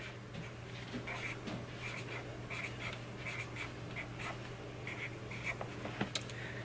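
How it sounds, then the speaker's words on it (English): A marker or pen writes a label on a classroom art caddy in a first-grade room, giving soft, close scratchy strokes in short repeated bursts over a quiet background hum. "So again, I'm just writing."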